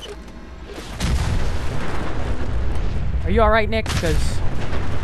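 Explosions in Fallout 4's Far Harbor expansion, a loud continuous booming rumble filling the clip after a sudden onset, with someone speaking over it and a brief wavering tone near the end.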